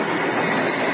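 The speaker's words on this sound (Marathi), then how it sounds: "अत्यंत वेगानं ही मालगाडी पुढे चालली आहे" A runaway freight train with no driver or guard hurtles along the rails at about 70 to 80 km/h, a loud continuous rushing roar and rattle throughout a brief moment.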